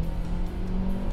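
A 2024 Dodge Hornet RT Plus accelerating, a steady engine hum with a faint tonal note holding through a short moment, heard from inside at moderate level.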